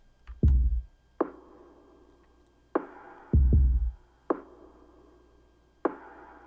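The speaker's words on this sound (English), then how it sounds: "I'm also going to duplicate every other kick and make a double kick hit" Doubled kick drum in a produced track, pairs of deep thuds spaced like a heartbeat, with each low double hit alternating with a single brighter knock, sparse and steady over a quiet background.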